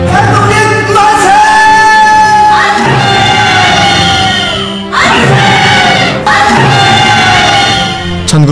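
A loud crowd at a March 1st Independence Movement centennial ceremony in Mokpo shouts independence cheers in repeated rising surges of massed voices, close and forceful.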